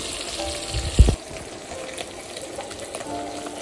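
Tangra fish frying in hot oil in a pan for a curry with aubergine and potato, a soft continuous sizzle with one louder clatter as a piece is turned over, no voices.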